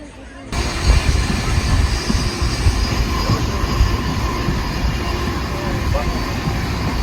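Jaipur–Kota Ranthambore Express rolling into Kota Junction, a steady low rumble of rail wagons with clattering wheels, heard close from inside the train, sustained throughout after a quiet opening half second.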